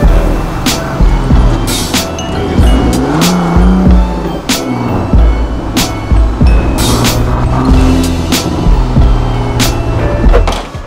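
A car drives off, its engine revving loudly with bursts of acceleration and tire squeal, close by and continuous over about eleven seconds.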